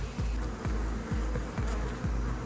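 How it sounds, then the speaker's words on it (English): Steady buzzing of bees close by during a flat-roof hive removal, with a low droning hum pulsing in a slow repeating rhythm; no voices. "Still plenty of bees about."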